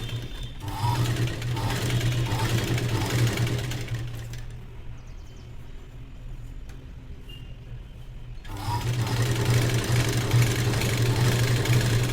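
A sewing machine stitches a blouse with a fast, even mechanical whir, running loud and close, easing off for several seconds in the middle, then starting up again at full speed, with no voices.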